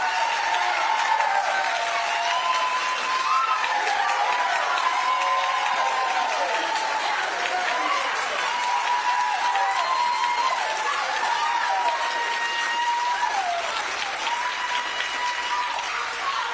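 Sustained loud applause and cheering from a town hall audience in Nebraska: dense clapping with whooping voices running unbroken throughout.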